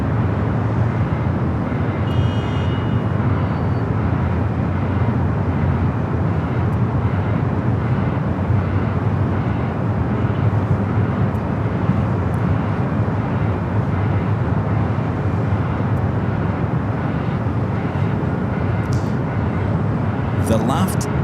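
Steady, loud roar of a Swiss airliner jet at LAX, a continuous broadband rumble filling the whole stretch without letup, with faint voices underneath.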